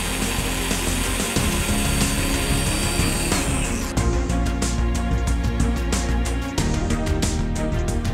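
A plunge saw makes a shallow nick across the front surface of a workbench panel, its motor whining loudly and steadily with the blade briefly biting the material, then spinning down near the end.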